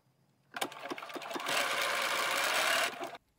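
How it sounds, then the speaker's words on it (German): Sewing machine stitching a summer dress, with fabric guided along the needle plate past an overlocked seam; a few quick starts, then a steady, loud whirring run of about two seconds that stops abruptly. "beim weiteren Nähen orientiere ich mich hier für die Stoffführung an der Stichplatte"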